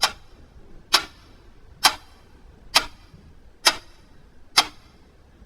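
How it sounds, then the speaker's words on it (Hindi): A clock ticks off seconds in a dark, silent room as a horror story sound effect, sharp crisp ticks at an even, slightly under one-second pace, six or seven in a row with nothing else heard. "सिर्फ घड़ी के सेकंड की आवाज चारों ओर घूम रही थी।"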